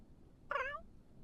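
A single short meow from a pet cat in The Sims 4, begging for food, stands out clearly over a faint low background hum.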